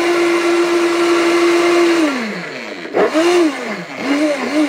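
A brick-making blender machine with a gear system runs with a steady, loud mechanical drone, then its pitch sags and wavers as the load changes, near and continuous.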